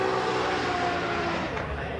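A drift car runs a qualifying lap at Formula Drift Japan, Round 5 at Okayama, its engine a sustained roar at moderate distance under a commentator's talk.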